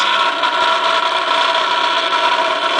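A sewing machine with its track engaged grumbles with a steady mechanical vibration, humming continuously at close range, a dense rough drone with no pauses or voices.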